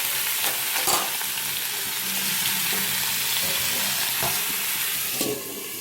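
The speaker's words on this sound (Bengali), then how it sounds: "দিয়ে আমি আলুগুলোকে লাল লাল করে ভেজে নেব।" Potatoes frying in a hot pan, a dense, continuous sizzle close by with occasional scraping stirs, no voices.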